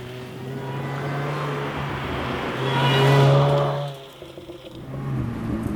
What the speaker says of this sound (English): that supercharger whine just never gets old.